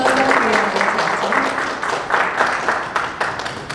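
A congregation at a Bangla worship service claps together to welcome a guest, a short burst of steady, close applause with no pauses.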